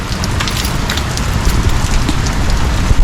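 Steady rain falls outdoors near a parked car, a dense, even hiss of drops on surfaces running throughout without pause at fairly close range, with no voices.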